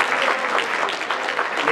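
Dense, steady applause from an audience at a college hostel event honouring students, loud and close, filling the short moment without any talk over it.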